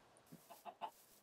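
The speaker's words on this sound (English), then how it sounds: "now we have a way of getting these chickens without having to punch them with my fist" Video game chickens cluck in a short run of four soft, rising clucks, close but faint, with no talking over them.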